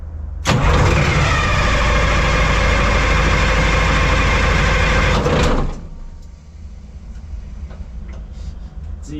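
A Vietnam-era M113 armoured personnel carrier's engine cranks and catches with a loud roar, runs hard and steady for about five seconds, then drops to a quieter low idle.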